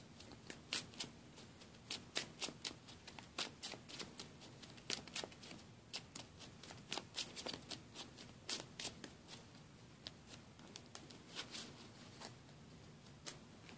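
A deck of Pokémon trading cards is shuffled repeatedly up close, quick riffling bursts and soft slaps in a steady rhythm, with no talking.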